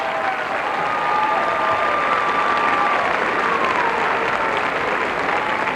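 An arena crowd applauds a men's Olympic figure skating performance at the 1984 Sarajevo Games, a loud, dense and sustained wash of clapping heard from within the stands, with a faint whistle or cheer threading through it.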